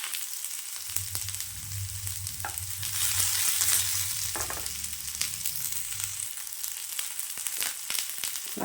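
Shallots frying in oil in a kadai for a mutton curry, a steady close sizzle with soft stirring scrapes, swelling briefly in the middle before settling back.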